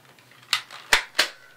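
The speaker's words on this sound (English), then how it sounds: "A Nerf gun." A toy Nerf gun fires three quick, sharp plasticky pops in about a second, close and distinct against near silence.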